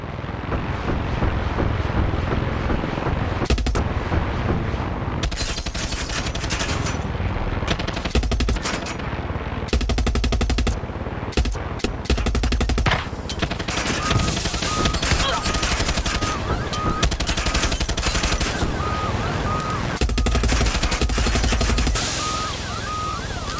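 Dense bursts of rapid automatic gunfire in the video game Far Cry 6, loud and repeated in clusters over a continuous roaring background, with brief pauses between volleys.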